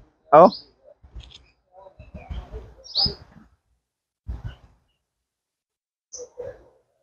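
Birds chirp at midday in a mango orchard in Gir, a few sharp, separate calls, one loud and close, scattered among a person's spoken words.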